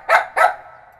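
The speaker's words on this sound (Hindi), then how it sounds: "फिर ये कुत्ता भौंकता है" A dog barks twice in quick succession, two short, sharp, fairly loud woofs close by, the second trailing off into a faint tail with no talk around them.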